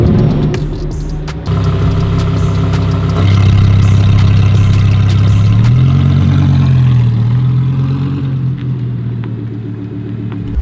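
A Lamborghini Huracan Performante's naturally aspirated V10 rumbles loudly up close, its deep, steady tone swelling partway through as the revs climb and settle, then easing off toward the end, with no voices.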